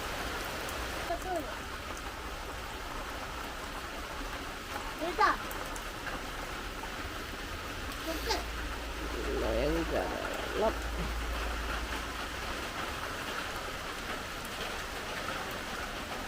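Light rain patters steadily on surfaces nearby, a soft continuous hiss with occasional louder drips, while people talk quietly in the background.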